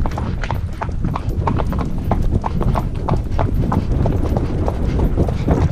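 Horse hooves clip-clop in a steady, brisk rhythm on hard ground while being ridden, close and loud throughout with no talk over them.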